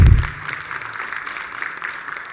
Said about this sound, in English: let's just give her another round of applause